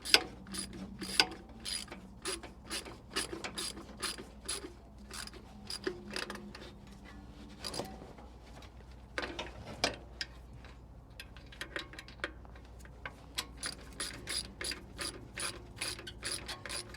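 Ratchet wrench tightening a fuel pump bolt on a 1962 Chrysler Newport, rapid rhythmic clicking bursts repeating close up for many seconds with short pauses between strokes.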